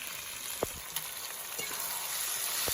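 Ground spice paste drops into oil with frying chicken, giving a steady close sizzle and crackle with a few sharp spatters, while stirring clinks come through now and then in a rural-style chicken curry.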